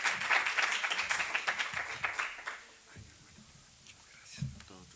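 A crowd applauds to welcome a speaker at a theology forum, a burst of clapping that fades out after a couple of seconds, leaving a quiet room with low murmuring.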